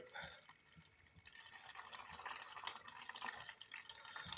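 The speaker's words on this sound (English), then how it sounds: "that's splashing a bit. That is going through at a hell of a rate." Fermented brown sugar wash siphoning through a pipe and splashing into a container, a steady close liquid rush and patter running throughout.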